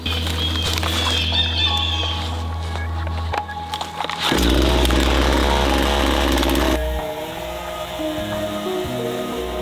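A chainsaw cuts into an old tree stump to slice it flat, its steady loud engine drone shifting in pitch as the blade bites, with a brief drop near the middle and the roar continuing to the end.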